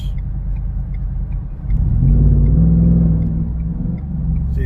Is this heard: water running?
no